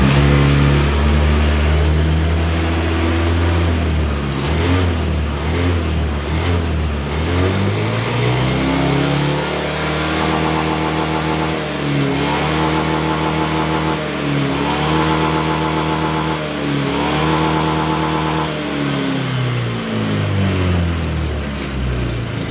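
Motorcycle engine revving close by after a throttle repair, loud and continuous, the pitch rising and falling through several throttle blips over a steady idle.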